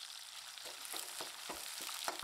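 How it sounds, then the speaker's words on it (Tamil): Onions sautéing in oil with fennel seeds and curry leaves for drumstick thokku, a quiet steady sizzle broken by repeated stirring scrapes of a spoon against the pan, close up with no speech. "இப்போ வெங்காயம் நல்லா வதங்கி வந்துருச்சு"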